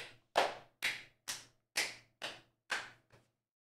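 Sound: applause

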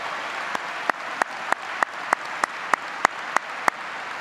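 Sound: audience applause at high school commencement

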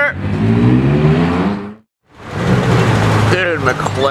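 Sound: McLaren GT sports car engine driving past

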